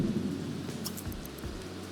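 Steady rain falls with low rumbles of thunder in The Sims 3 during a snowy winter apocalypse challenge, a constant wash of rainfall with a deeper roll midway and no voices.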